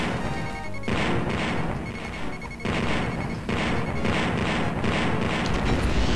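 A heavy explosion as a target is destroyed in the X-Wing space combat game, with crashing, booming blasts that surge and recur over a dense rumbling roar.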